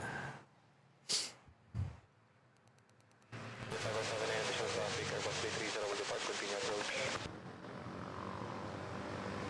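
A propeller airliner bound for Caticlan taxis toward the runway at Manila airport, its engine drone rising suddenly after a few brief knocks and staying loud and steady, easing slightly near the end.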